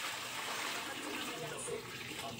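Tap water runs after being turned on, a steady rushing hiss that continues without a break.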